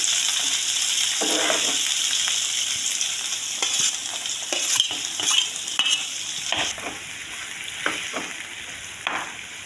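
Green chillies and onion fry in hot oil for a liver fry dish, a steady close sizzle broken by repeated scraping stirs of a spoon against the pan.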